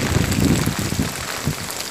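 Heavy rain during Nivar cyclone in Tamil Nadu, a dense continuous hiss of downpour with low rumbling gusts, steady and close, with no voices.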